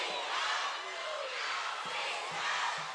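A high-school basketball crowd in Hawthorne's gym cheers and chants in a continuous, roaring swell that rises and falls.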